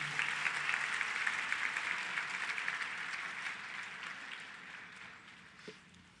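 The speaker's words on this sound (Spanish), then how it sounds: "Dan un aplauso al Señor." A church congregation applauds in a steady, hissing wash of clapping that slowly fades away toward the end, with no talk over it.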